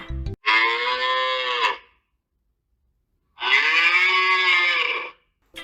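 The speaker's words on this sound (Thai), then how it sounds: "เสียงของวัว" Two long, loud cow moos separated by a pause of silence, each drawn out for over a second with a rich, droning tone.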